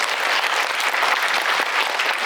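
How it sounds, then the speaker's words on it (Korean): Audience applause fills a cinema hall at a film premiere talk, dense steady clapping from a large crowd, loud and sustained throughout without speech. "박수 부탁드릴게요."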